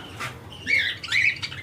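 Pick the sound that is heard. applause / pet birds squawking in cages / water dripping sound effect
pet birds squawking in cages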